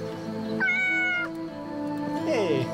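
A cat meows in the video game Yes, Your Grace, with two distinct drawn-out calls, the second sliding downward, clear and close over a soft game music bed.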